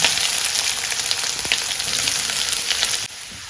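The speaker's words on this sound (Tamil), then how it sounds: "ஒரு வானில் எண்ணெய் ஊற்றியாச்சு கொஞ்சமாக கடுகு போட்டுறேன் கருவேப்பில் அதுக்குள்ள வெங்காயம்" Mustard seeds, curry leaves and onion sizzle loudly in hot oil in a pan, a dense, close crackling hiss that drops off abruptly near the end.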